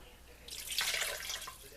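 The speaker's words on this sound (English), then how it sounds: "I'm going to add another cup of water." A cup of water pours into a pressure cooker holding roast beef, a soft splashing rush lasting about a second, faint and close with no talk over it.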